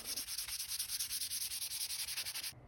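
Crystal clear epoxy resin being sanded by hand with 320 grit sandpaper: a steady run of quick, even back-and-forth rasping strokes, close and bright, stopping abruptly just before the end.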